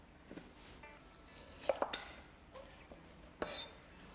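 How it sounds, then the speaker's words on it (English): A knife cuts half a cauliflower into pieces on a cutting board, giving a few soft, scattered crunches and knocks against the board, with quiet kitchen ambience between them. "I'll cut it in half and then just cut it into pieces"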